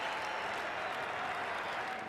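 Cricket crowd at a Test match in Perth applauding a batsman, Mike Hussey, off the ground, with steady, dense clapping from a large distant crowd that holds evenly throughout.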